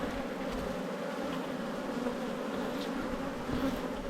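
Flighty, defensive bees fly around a hive in an Australian apiary, a steady close buzzing drone with no pauses and occasional individual bees passing nearer.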